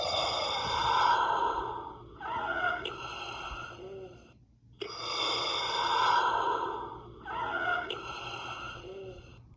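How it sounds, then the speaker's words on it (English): Darth Vader breathing from a Black Series helmet: slow, raspy mechanical inhales and exhales, heard as two full breath cycles, loud and close, with a short pause between them. "once you take it off, you get to see or hear the dying Darth Vader breathing, which happens 3 times"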